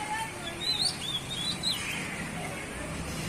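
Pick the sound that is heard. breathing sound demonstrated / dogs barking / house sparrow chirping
house sparrow chirping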